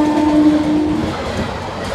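A WAP-4 electric locomotive hauling the Ratnachal Express near a station beside the Chennai–Howrah national highway sounds a loud, steady horn for about a second, then the rumble and rattle of the passing train carry on alone.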